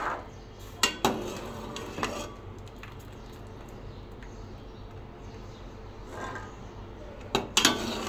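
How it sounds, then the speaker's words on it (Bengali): Boiled peas lifted out of hot water with a metal strainer, giving a few sharp clinks and scrapes against the pot over a low background, with quieter stretches between the handling sounds. "জল ছেঁকে ছেঁকে মটরশুঁটিগুলো তুলে নেব।"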